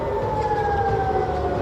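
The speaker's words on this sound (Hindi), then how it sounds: "राजधानी तेल अवीव में भी अलर्ट सायरन बज गए" A steady wailing air raid alert siren in Tel Aviv holds its long drawn-out tone throughout, mixed with constant low rumbling background noise and no voices.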